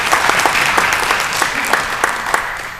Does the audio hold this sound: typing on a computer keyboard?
no